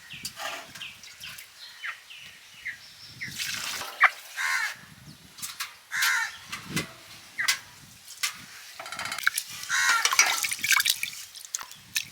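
Water splashes and pours over rice being soaked for biryani in a home kitchen, coming in irregular bursts with drips and sloshing between pours.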